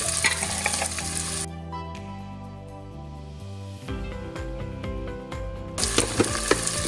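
Coconut, turmeric and red chili powder sizzling and stirred in a hot pan, steady frying crackle with a spoon scraping through, close up and fairly loud, no voices.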